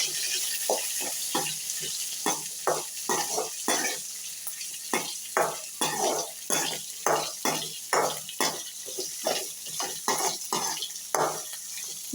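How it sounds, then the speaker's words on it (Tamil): Chopped onions and green chillies are stirred and sautéed in a pan, with a spatula scraping and clinking against the metal in a quick, irregular rhythm over a soft, steady sizzle. "நல்லா ஃப்ரை ஆகிற வரைக்கும் வதக்கலாம்"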